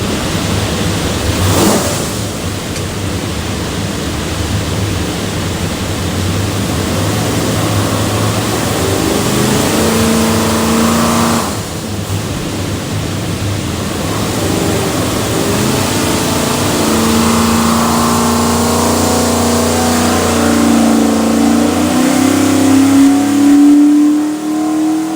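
A stack-injected 427 Ford V8 bound for a 1956 Ford F100 revs hard on an engine dyno, a loud, steady roar climbing in pitch over about twenty-five seconds, with no voices.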